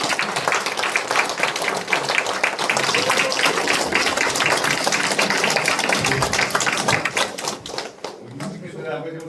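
Applause from a crowd welcoming guests at a launch ceremony for a regional basic-society committee, dense sustained clapping that fills the room loudly throughout before thinning out near the end.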